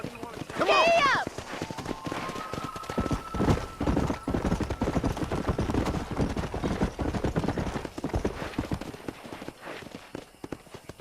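A horse in Red Dead Redemption 2 lets out a whinny, then gallops with steady, close hoofbeats under continuous game background sound.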